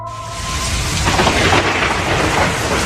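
Heavy rain pours down with rolling thunder, a loud, dense, continuous roar of rainfall and rumbling with no voices.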